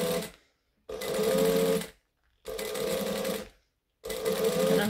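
Sewing machine stitching vinyl from an upholstery supplier for a tote bag, running in three loud, steady bursts of about a second each with short silent pauses between, as when backstitching, close up with no talk.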